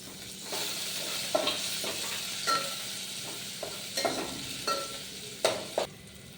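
Garlic fries in hot oil for dal tadka under a steady sizzle, while a spoon stirs in repeated scraping strokes that come every second or so, close and clear.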